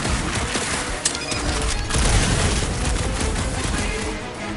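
Dense gunfire in the PS5 game Guardians of the Galaxy: rapid overlapping shots and impacts in a continuous loud barrage, with game chatter faintly mixed beneath.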